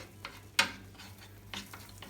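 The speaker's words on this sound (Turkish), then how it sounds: "Şimdi tereyağımızı eritiyoruz" Butter melting and being spread around a crepe pan for an omelette, giving a quiet sizzle with a few short scraping strokes, one sharper scrape standing out; no talk.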